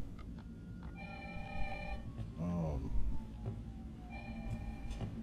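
A telephone rings in the Resident Evil 3 Remake, giving two ringing bursts a few seconds apart against low, rumbling game ambience.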